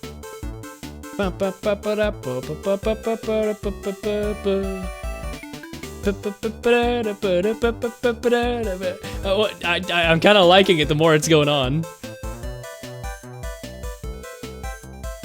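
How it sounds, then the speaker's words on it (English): Upbeat character theme music for Tabby from the Ace Attorney video game plays throughout with a bouncy rhythmic beat and melody, while someone talks over it. "Tabby, you can stick around if your theme sounds like this."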